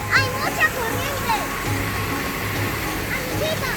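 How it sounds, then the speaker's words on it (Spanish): A river waterfall with a strong current gives a steady, broad rushing roar that fills the whole clip. A voice briefly calls out over it near the start. "Es una cascada y hay mucho río. Hay mucha corriente."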